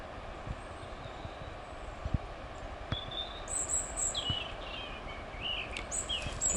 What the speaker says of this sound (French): Vous avez entendu le doux chant? À la fois on entend les oiseaux, à la fois on entend